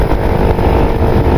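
A motorcycle engine runs with a steady, loud low rumble that holds even and unbroken throughout.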